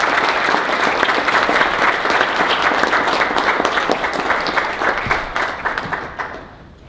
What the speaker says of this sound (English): How about one more round of applause for your next speaker?